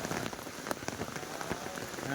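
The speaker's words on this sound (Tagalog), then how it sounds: "Inabot na tayo ng ulan" Rain falls at a chapel construction site, with a steady patter of drops striking surfaces and scattered sharper hits, fairly faint and continuous.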